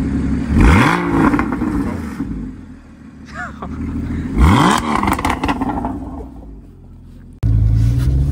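A Porsche Cayman S 981 engine is revved hard twice, each loud rising and falling blip standing out over a rumbling idle, with a faint voice in between and a sharp jump in engine noise at the end.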